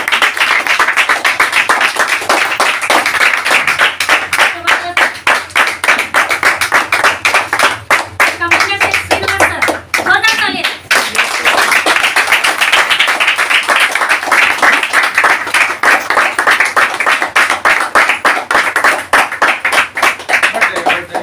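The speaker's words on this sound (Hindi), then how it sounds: "ऐसा ताली।" An audience claps in welcome at a motivational lifestyle program: dense, sustained applause from many hands, loud and steady for about twenty seconds, with a few voices mixed in.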